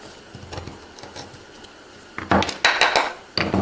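Small chisel bites into wood during hand routing work: a few soft taps early, then louder, sharper close-up cuts and scrapes in quick bursts, with no talking.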